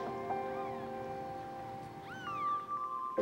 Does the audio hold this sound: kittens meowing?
yes